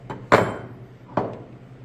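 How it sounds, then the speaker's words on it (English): Two sharp metallic taps of a hammer on a chisel wedged into a 1991 Suzuki RM250 crankshaft during a rebuild, spaced about a second apart, close and clear over a low hum. "we're just gonna stick this chisel in there and just a little tap"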